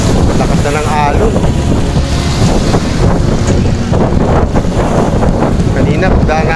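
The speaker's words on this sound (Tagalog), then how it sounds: "Lakas na ng alon." Strong sea waves surge and churn along the shore near Balete on the Taal loop, a steady loud roar mixed with heavy wind buffeting the microphone throughout, with a voice talking faintly underneath.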